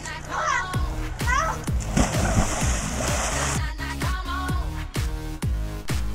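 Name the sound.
splashing from kids doing reverse cannonballs into a pool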